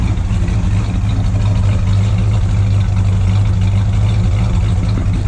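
A 1959 Edsel's engine idling with a bent-up exhaust, a steady low rumble with a strong bass hum, close and continuous for the whole stretch.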